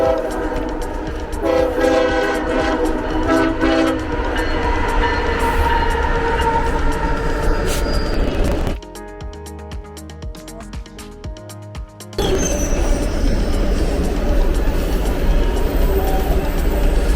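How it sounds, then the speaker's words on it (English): Freight train in Canada rounding a curve, a loud steady rumble with horn blasts and rolling wagon noise, dropping briefly quieter mid-pass before the full roar returns. "within 30 seconds I heard the train going"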